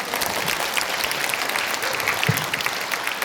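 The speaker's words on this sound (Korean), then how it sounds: "발표해 주신 문광 스님께 다시 한번 큰 박수 부탁드리겠습니다" An audience at a Korean Buddhist academic conference applauds steadily for a monk who has just finished a presentation, a dense, even wash of clapping with no talk.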